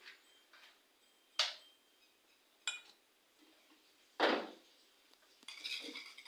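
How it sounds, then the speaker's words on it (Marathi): A lid set on a cooking pot in a quiet home kitchen: a few sharp metallic clinks and clatters spaced apart, then a short rattling shuffle of cookware. "झाकण ठेवते म्हणजे कसं खराब नको व्हायला"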